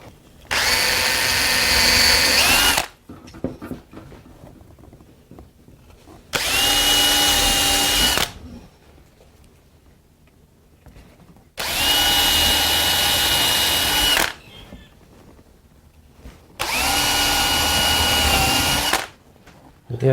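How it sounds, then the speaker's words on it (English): A power drill bores pilot holes in wood for a trestle table, four loud bursts of about two seconds each separated by quiet gaps, a steady high whine during each run. "The idea for pilot holes is so that the screws won't split the wood."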